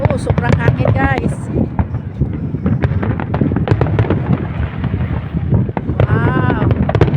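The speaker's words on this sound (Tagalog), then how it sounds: "Oh, sobrang hangin guys." Strong wind buffets the microphone with a loud, constant low rumble, while voices exclaim over it and faint fireworks pops sound in the distance at a New Year celebration in Bahrain.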